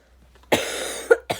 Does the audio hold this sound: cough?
yes